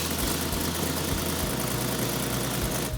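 A Mopar engine mounted on a stand idles after starting, a loud, steady, rumbling drone with a regular low pulsing throb that holds evenly throughout before stopping abruptly at the very end.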